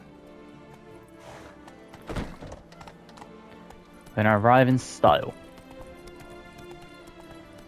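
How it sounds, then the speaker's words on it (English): A horse gallops in The Witcher 3: Blood and Wine with soft, steady hoofbeats underneath, while someone speaks and a louder voiced burst stands out briefly. "it might actually be quicker to jog than to gallop like this"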